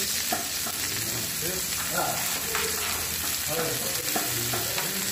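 Noodles frying with cabbage and egg in a Nepalese-style pan dish as tomato goes in, producing a steady close sizzle with stirring scrapes throughout.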